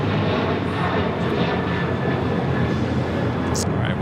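A jet airliner takes off from LAX on a flight to Houston, its loud, dense engine roar filling the whole stretch without letup, close and powerful, with faint voices mixed in.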